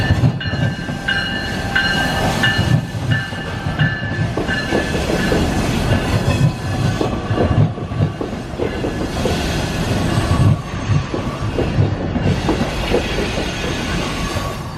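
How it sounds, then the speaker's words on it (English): A Chicago metro train rumbles past in a loud, continuous roar with rhythmic clattering of wheels over rail joints and some metallic squealing, close by and sustained without talk. "Oh, I guess this is their metro."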